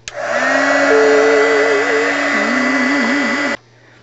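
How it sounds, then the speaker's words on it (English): A hair dryer blows steadily on polymer clay to harden it, with a whirring motor hum and a wavering whine, running loud and close for about three and a half seconds before cutting off. "Then you take your blow dryer and you harden it."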